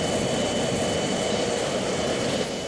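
Jet fighter engine roaring at full throttle in the Strike Fighters flight game, over the Haiphong area, a loud steady broadband roar with a constant whine, unbroken and alone.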